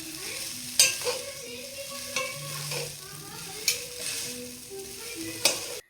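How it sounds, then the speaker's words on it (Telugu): Chicken noodles stir-fried fast-food style in a pan with Maggi masala; repeated spatula scrapes and knocks land every second or so over a continuous close sizzle. "నూడిల్స్‌ని వేసుకొని ఫాస్ట్ ఫుడ్ స్టైల్‌లో బాగా కలుపుకుంటూ ఒక 2 మినిట్స్ వేయించాలి."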